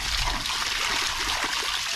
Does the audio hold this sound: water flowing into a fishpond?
yes